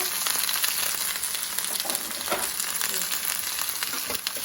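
Chorizo and potatoes frying in a pan, a loud dense crackling sizzle close up, with scraping spatula strokes lifting and turning the pieces scattered throughout.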